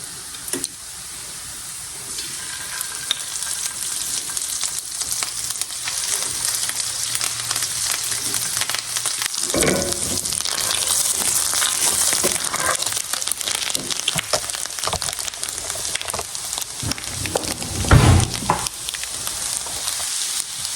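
Butter and crab paste fry in a pan with garlic, giving a loud continuous sizzle that swells with bursts of crackling and stirring scrapes; no speech.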